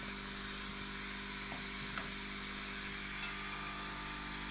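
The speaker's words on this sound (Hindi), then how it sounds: "चलाओ चम्मच चलाओ" Spoon stirring turnip curry in a cooking pot, with steady sizzling from the hot pot under a constant hum, and a few faint scrapes and clinks of the spoon against the pot.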